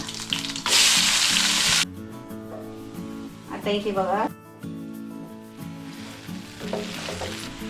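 Whole spices and onion hit hot oil in a pan for chicken sukka, a loud sizzling burst that settles into steady frying under a voice and soft background music.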